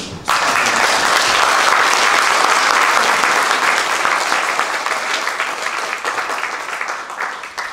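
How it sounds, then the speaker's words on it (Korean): A church congregation applauding together at a pastor's retirement thanksgiving service, loud dense clapping that fills the room, sustained for several seconds before easing slightly toward the end. "우리 다 같이 박수 다시 한번"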